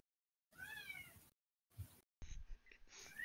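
A cat meows in the background, giving several drawn-out, pitch-bending meows in separate bursts with short gaps, faint and somewhat distant, with no speech.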